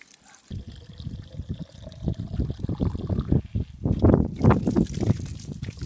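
Water pours from the pipe outlet of a homemade ram pump at the top of a hill in East Sussex, a close, splashing trickle that grows heavier and more gurgling toward the end.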